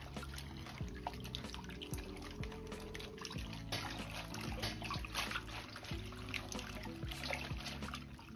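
Clean water is poured and splashed over napa cabbage being rinsed, a busy wet trickling and dribbling that carries on steadily, mixed with low clattering handling noise.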